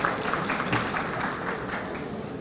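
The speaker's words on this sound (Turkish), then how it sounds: "Alkışlarınızla." Applause from an audience at a Bursa Metropolitan Municipality event marking the BursaRay's 22nd year, a steady wash of clapping held at an even level for its whole short span.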